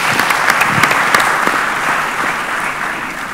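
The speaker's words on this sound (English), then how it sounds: "give thanks to our speaker and give applause to them, big applause" Audience applause for the speakers at a conference question-and-answer session, a dense, steady clatter of many hands that fills the room throughout and eases slightly toward the end.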